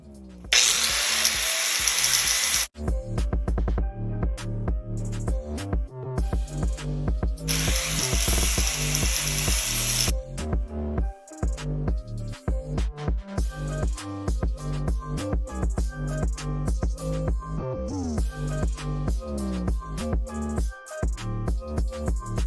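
A power tool grinds loudly and continuously on motorcycle covers for a Harley touring stunt bag and fender build, with rapid rattling bursts and a high hiss that comes and goes in long stretches.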